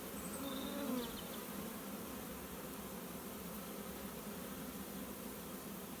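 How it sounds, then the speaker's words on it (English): A honeybee swarm fans at a swarm trap box, a steady dense buzzing hum that stays close and fairly quiet throughout, with no talking. "Very nice swarm. Here they go, all fanning now."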